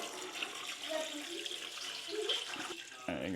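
Filtered water pours steadily into a pot holding chicken bones, a continuous hissing splash with the pitch shifting as the pot fills, heard close while a voice speaks faintly underneath.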